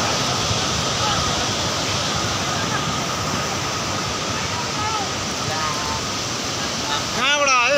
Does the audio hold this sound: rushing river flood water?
yes